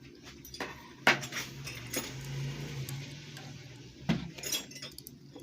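A 14 mm spanner is handled on a Juki LBH 761/781 sewing machine, giving a few faint metallic clinks and knocks, two sharper ones spaced a few seconds apart, over a low background hum.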